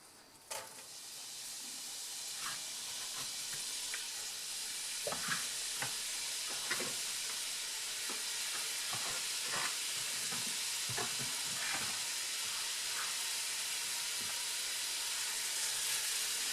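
Onions fry in a hot pan for a tomato sauce, a continuous hissing sizzle with intermittent scraping clicks of stirring, steady and moderately close throughout, with no one talking.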